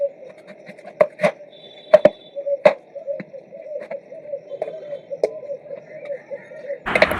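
A knife chops into a raw jackfruit in sharp, irregular strokes close by, over a steady background hum, ending in a louder burst of noise.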